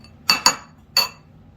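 Pieces of halibut are set down on a metal pan, producing three crisp, close clinks in quick succession, two close together and one a half second later, with near silence between them.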